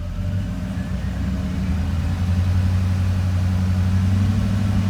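Car with a 6L80E automatic transmission under a PCS controller, steady low engine drone as it runs through gear changes, close and continuous with no voices.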